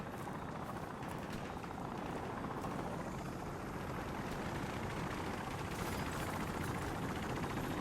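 Helicopter in Call of Duty Modern Warfare Remastered, a steady loud rotor and engine roar that fills the whole clip without pause, with no voices over it.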